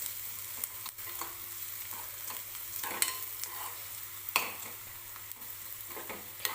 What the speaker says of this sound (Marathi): आणखी 1 मिनिटभर मी कांदा व्यवस्थित सॉफ्ट होईपर्यंत भाजून घेणार आहे.